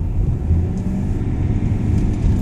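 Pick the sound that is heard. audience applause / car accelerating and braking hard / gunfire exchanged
car accelerating and braking hard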